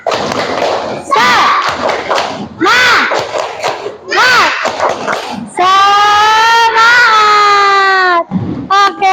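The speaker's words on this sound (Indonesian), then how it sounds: "mari kita tepuk semangat" Classroom of children doing a tepuk semangat spirit clap, with bursts of rhythmic clapping and group chanting in turns, then a long sustained shout from many young voices, loud and close.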